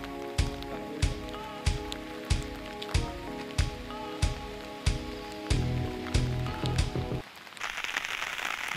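Rain falls at a dam campsite in a thunderstorm, with heavy drops striking a surface in regular loud taps over a steady wash, ending in a broader hiss of downpour.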